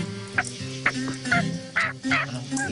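A person's voice imitates a hen turkey's yelp, a caller who won the Southern Championship of turkey calling, giving a string of about six short, nasal, honking yelps in a steady, rhythmic run, close and fairly loud.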